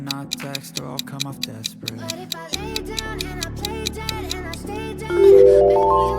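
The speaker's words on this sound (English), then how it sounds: "Yes, that is Skype." Skype logo connection sound: a rhythmic run of bright ticking, plucked tones over a low pulse, ending in a rising tonal chime, clear and alone with no talking.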